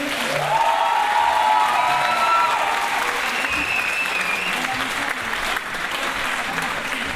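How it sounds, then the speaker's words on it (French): A theatre audience at a youth peace show applauds steadily, a full, sustained roar of clapping with faint cheering and crowd murmur mixed in, holding level throughout. "Est-ce qu'on peut l'applaudir pour ça"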